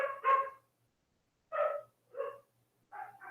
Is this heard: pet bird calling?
no